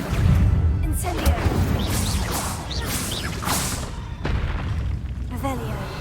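Incendio fire spell cast in the video game Hogwarts Legacy, a series of booming bursts and whooshing blasts following one after another over six seconds, loud and close in the game mix, with a voice calling out the spell.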